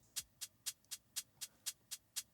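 A shaker loop at 120 BPM plays a steady run of crisp, bright shakes, about four per second, evenly spaced and alone with no other sound.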